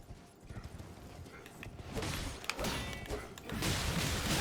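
Horse hooves galloping in Elden Ring, a steady clip-clop rhythm under combat clatter, with a louder crash partway through and other game noise rising toward the end.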